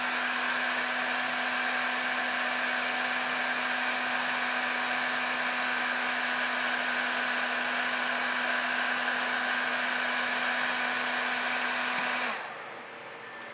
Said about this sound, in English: I find what this does, at least my heat gun does,